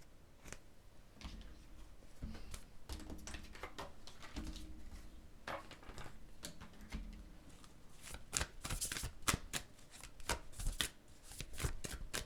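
Quantum oracle cards are shuffled by hand during a tarot reading. Soft, close riffling and slapping card sounds repeat in quick irregular bursts, growing crisper toward the end.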